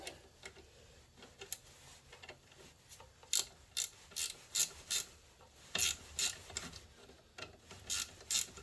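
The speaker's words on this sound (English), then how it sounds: "We got a 10mm ratcheting wrench." A 10mm ratcheting wrench turns a bolt near a vehicle muffler, giving bursts of rapid clicking pawl ticks, close and fairly loud, in irregular runs with short pauses and no voices.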